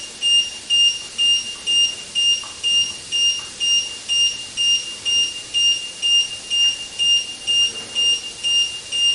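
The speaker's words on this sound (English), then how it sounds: "when the water level comes down, the unit switches off automatically and it will start a beep." A water distiller's low-water alarm beeps repeatedly in a steady, even rhythm, high-pitched and clear, with no voices, continuing throughout.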